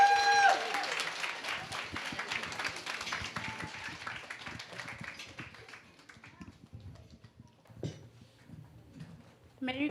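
A church congregation at a Christmas service applauds to welcome performers, loud dense clapping at first that thins and fades into scattered claps and room noise, with a few louder taps near the end.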